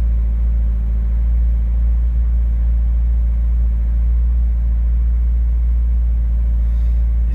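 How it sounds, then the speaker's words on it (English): Old Ford 2-litre Pinto engine warming up, a steady loud low idle drone held close with the throttle lightly tickled to keep revs up, no talk over it. "I just like to tickle the throttle to keep the revs high"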